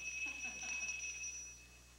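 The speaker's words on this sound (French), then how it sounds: "la cloche, c'est quoi?" A bell rings with a bright, sustained metallic tone, close and clear, fading out over about a second and a half, with no voices.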